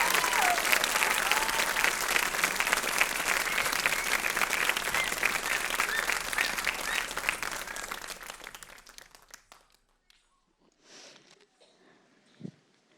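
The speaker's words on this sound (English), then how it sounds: "We have to give a really big round of applause for her again." Audience at a Bharatanatyam arangetram in a hall breaks into dense, loud applause for a singer, sustained for about eight seconds before tapering off into scattered claps and near silence.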